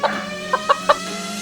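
A cartoon chicken, newly hatched in a farm story, clucks three short, close, bright notes in quick succession over a faint steady background tone, with no talking.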